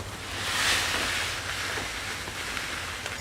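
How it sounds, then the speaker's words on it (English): Washed playground sand pours into a cup as a soft continuous hiss that swells early and then tapers, close by, with no voices. "I'll pour it out into a cup here."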